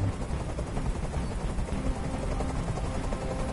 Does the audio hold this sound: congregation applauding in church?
no